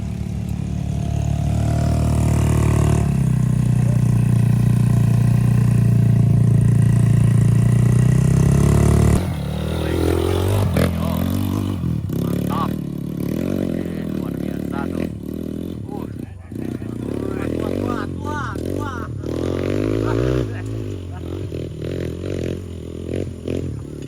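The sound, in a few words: Toyota Rush and Mitsubishi Xpander engine revving on uphill climb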